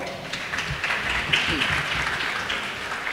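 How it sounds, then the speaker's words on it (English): A room of people at a community event applauds for an honored guest, a steady, moderately loud rolling clap that holds throughout, with faint voices mingling in the crowd. "please give him a round of applause"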